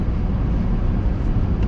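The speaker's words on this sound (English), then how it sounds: "you can hear the engine" A Toyota Tundra pickup engine holding a low gear on a mountain pass descent, a steady low rumble with road and wind noise, loud and continuous.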